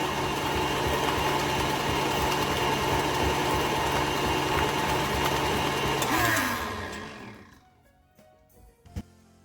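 An electric mixer beats sugar-free salted caramel pumpkin cheesecake batter with a loud, steady whirring drone that runs for about six seconds, then winds down to near silence.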